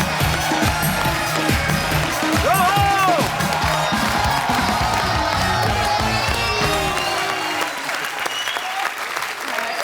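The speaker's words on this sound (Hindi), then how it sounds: "तो एक बार जोरदार तालियों से स्वागत हो जाए" A large studio audience on a TV comedy show applauds loudly and without a break to welcome a guest, with scattered cheers and whoops rising over the steady clapping.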